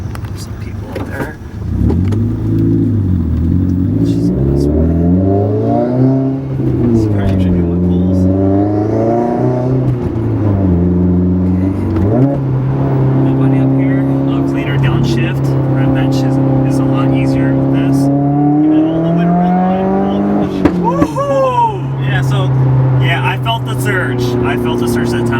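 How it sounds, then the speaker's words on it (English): A Stage 2 modded Subaru WRX accelerates hard at full throttle, its engine note climbing through repeated rising sweeps with gear changes, loud and close from inside the car. "I felt a surge that time. I gave it full throttle."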